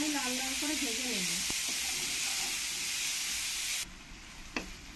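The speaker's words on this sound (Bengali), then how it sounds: "পেঁয়াজগুলো একটু ভালো করে আমি লাল লাল করে ভেজে নেব" Chopped onions fry in hot oil until reddish, a close, even sizzling hiss that drops sharply near the end, with a brief voice early on.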